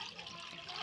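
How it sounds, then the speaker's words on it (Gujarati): Water splashes briefly and steadily into a small pot set out for boiling peas. "હવે આપણે એક નાની તપેલી લઈ એમાં પાણી એડ કરી"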